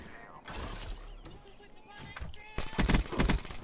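Video game gunfire with a few sharp, close shots and bursts in quick succession, heard amid lively voices and chatter.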